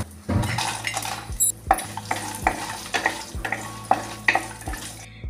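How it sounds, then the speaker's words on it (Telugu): Mustard seeds, cumin, chana dal, urad dal and peanuts frying in oil in a kadai, a steady sizzle broken by repeated scrapes and clinks of a metal spoon stirring against the pan. "నూనె కొంచెం వేడెక్కిన తర్వాత ఆవాలు, జీలకర్ర, శనగపప్పు, మినపప్పు, పల్లీలు వేసుకుని వేయించుకోవాలి"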